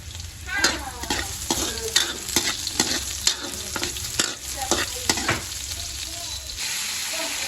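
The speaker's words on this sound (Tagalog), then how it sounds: "Magisa na ako ng bawang sibuyas sa luya." Garlic, onion and ginger sizzle steadily in a hot pan while a utensil stirs and scrapes in repeated strokes, close and moderately loud.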